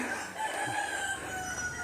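A rooster crowing faintly in the distance, a short call under low background noise.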